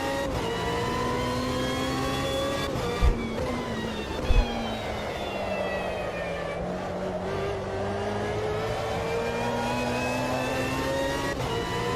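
A 2005 GTR race car engine drones loudly and continuously, pitch rising and falling through gear changes and revs, with a couple of brief knocks.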